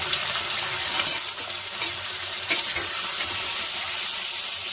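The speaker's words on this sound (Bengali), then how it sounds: "আর সবজি ভাজা ভাজা হয়ে গেছে" Vegetables, moong dal and grated ginger fry in a pan, giving a steady close sizzle with occasional scraping stir strokes.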